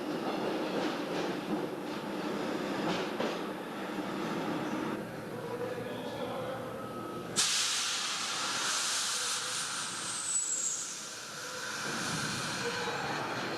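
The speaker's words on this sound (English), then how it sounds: "That was the New York air brake release." A train hums and rumbles steadily, then a sudden loud New York Air Brake release hiss bursts out and continues as a broad rushing sound.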